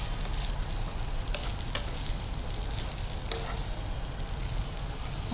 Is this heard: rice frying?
yes